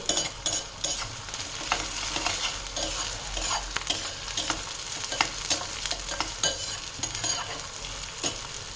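Onion with garlic paste sautés in a pan, a continuous loud sizzle broken by frequent scraping, clinking stirs of a spoon, close up with no talking.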